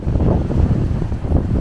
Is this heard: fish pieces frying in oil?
no